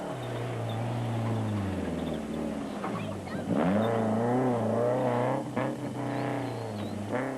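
Ford Ranger rally truck racing hard through a riverbed at the Limpopo 400 in 2007, a loud sustained engine drone with rising and falling revs and gear changes, close and continuous throughout.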